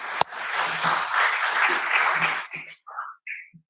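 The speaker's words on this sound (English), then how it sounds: "let's give him a round of applause." Enthusiastic applause from an audience at a full council meeting, loud and sustained for a couple of seconds before trailing off into scattered claps.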